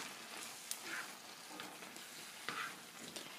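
Mixed vegetable curry is stirred in a pan over a quiet background sizzle, with a few distinct scraping strokes of the utensil against the pan, close but soft, and nobody speaking.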